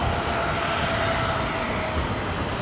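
A Virgin jet airliner, flight 179 bound for Nadi, taxis along the runway at Brisbane International Airport, its engines giving a steady, loud broadband roar with a faint whine held throughout.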